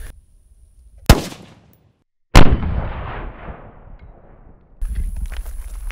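An AK-50 rifle fires two very loud, close shots about a second apart; the second shot rings out with a long echoing decay, and a rustle of handling noise follows.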